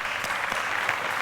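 Audience at a comedy music trade show applauding steadily throughout, a dense crowd clapping at close range with no talk over it.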